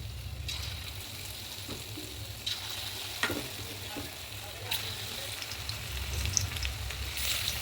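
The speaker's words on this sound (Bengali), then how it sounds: "পকোড়াগুলো আমি এবার একে একে তেলের মধ্যে দিয়ে নেবো" Steady sizzling of food frying in hot oil, a constant crackling hiss with occasional sharper pops and soft clinks of a utensil.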